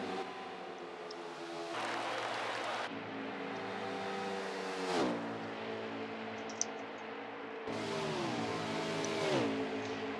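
Race car number 9 in an ARCS league race rolls down pit road, its engine droning steadily close by with a few shifts and falling pitch sweeps as revs drop, and no voices.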